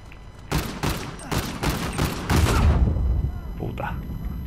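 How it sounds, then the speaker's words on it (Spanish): Several rapid, loud pistol shots in the Uncharted 4 online multiplayer game, fired in quick succession over about two seconds, with fainter game sounds and a brief voice afterward. "Vale, voy a probar esta pistola"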